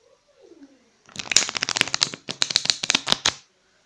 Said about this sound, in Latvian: samēsīšu kārtis